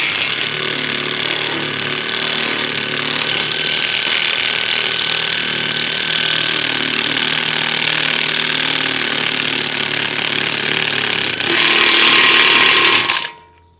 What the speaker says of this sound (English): put your raw bolt in place, and then tighten your impact wrench